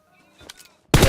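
A burst of rapid gunfire from a PUBG Mobile match starts abruptly and loudly, following a quiet stretch with faint background game sounds.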